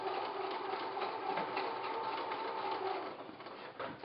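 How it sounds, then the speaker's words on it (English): A sewing machine stitches a fabric pouch with a continuous, fast mechanical whir throughout, fairly quiet and close, with no talking. "And then lower my presser foot and continue sewing."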